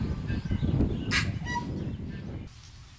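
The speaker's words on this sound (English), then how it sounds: "At Paia, we are welcomed by a tui bird" A tui calls at Paia in New Zealand, brief tonal notes rising over a loud, steady low rumble from the surroundings.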